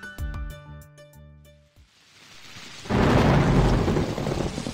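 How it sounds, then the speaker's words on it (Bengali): Heavy rain with thunder bursts in after a few seconds of music: a loud, dense roar of downpour with deep rumbling, rising and holding steady to the end. "ইস এত বৃষ্টি"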